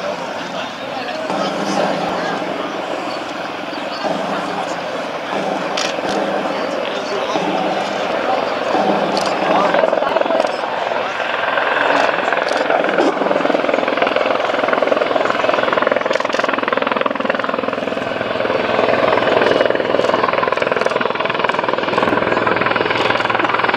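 A CH-53 military transport helicopter at an air show gives a continuous loud rotor thump and turbine roar, with a public-address announcer talking over it.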